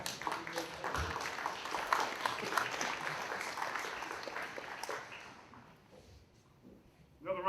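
Outdoor crowd applause at a Greek flag-raising ceremony for Greek Independence Day in Aurora, steady clapping for several seconds that fades away, then a voice begins speaking at the end.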